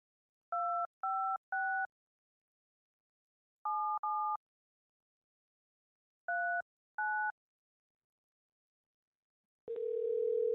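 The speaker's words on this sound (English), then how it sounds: "Let me make a call real quick." Landline telephone keypad tones beep in short paired bursts while a number is dialed, separated by pauses, followed by a steady dial tone that starts near the end and holds loudly.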